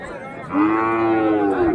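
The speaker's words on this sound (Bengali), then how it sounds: "এখানে একটা শাহিওয়াল ভালো মানের গরু" A Sahiwal cow at a village cattle market gives one loud, close, drawn-out moo that starts after a brief murmur of background voices and holds steady for over a second.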